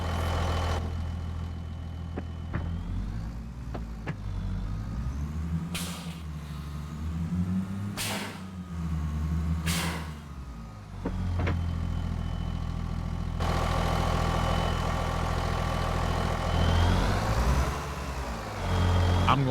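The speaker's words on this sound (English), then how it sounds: "I gotta hear the engine sounds in this" Engine idling in the farming game Farming Simulator 25, a steady low rumble held throughout at moderate level, with a few brief louder broadband bursts partway through and no talk over it.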